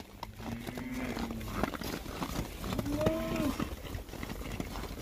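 Cattle moo as the herd comes into a big barn for sorting and bedding, with a couple of loud, drawn-out calls standing out over shuffling and general barn noise.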